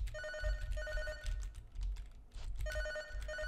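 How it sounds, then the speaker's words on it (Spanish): A telephone rings in the video game Crow 64, with repeated electronic bell trills in two bursts separated by a short gap, clear and fairly loud over a low rumbling background. "Otra vez suena el teléfono."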